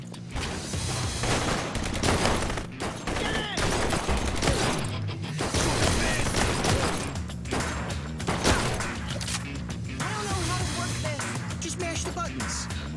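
Gunfire from the action shooter video game Blue Estate, dense bursts of shots under a loud music score and character voices talking throughout.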